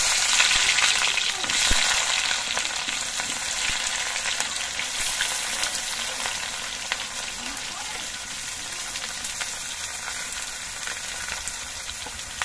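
Chopped onions frying in oil in a wok for chilli chicken, a dense continuous crackle like heavy rain, loud and close, easing slightly toward the end with stirring clicks underneath.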